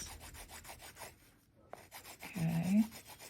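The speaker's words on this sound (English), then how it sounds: "it is a nice little sanding stick" A polymer clay pendant is being worked with a small sanding stick, giving steady, rhythmic rasping strokes close by. There is a brief pause midway, then a louder scrape near the end. No talk.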